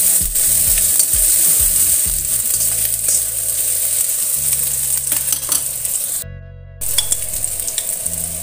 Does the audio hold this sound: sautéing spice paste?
yes